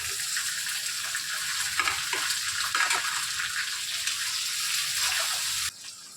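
Onions and capsicum fry together in a pan for chilli chicken, a dense close sizzle with a few stirring clatters, cutting off abruptly near the end to a quieter hiss.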